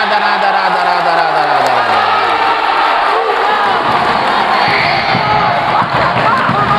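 Loud arena crowd at a youth basketball game, Hélio Queiroz against Reino Infantil, cheering and shouting continuously, with a descending whistle or horn tone at the start and steady roar throughout.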